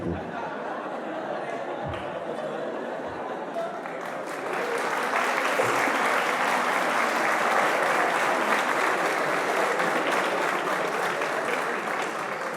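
A seated audience at a Uniminuto university gathering breaks into steady applause, which swells louder and denser after a few seconds and carries on as a sustained wash of many hands clapping.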